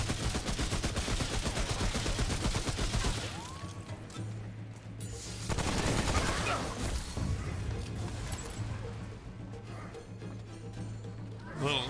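Assault rifle fire in the video game Remnant From the Ashes, rapid automatic bursts mixed with impacts and game effects, dense for the first few seconds and again midway, with a voice talking over it.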